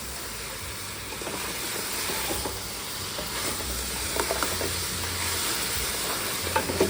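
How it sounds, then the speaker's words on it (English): Coconut milk pours into a sizzling pot of Jamaican oxtail, giving a steady, close frying hiss with soft bubbling and occasional stirring clicks throughout, with no voices. "So now I can go ahead and put in the rest of my coconut milk."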